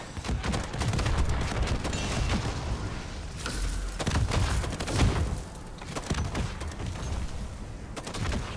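Rocket launcher fire in Black Ops Zombies: dense, repeated blasts and heavy booms pile up continuously for several seconds, loud and close with no let-up.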